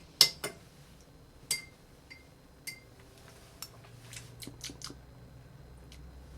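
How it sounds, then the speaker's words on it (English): Ice clinks and taps against a glass as a cocktail made with Carpano Antica Formula is given a quick stir, a few sharp close clinks early then softer scattered ones, no talking. "Let's just give it a quick stir and check the flavor."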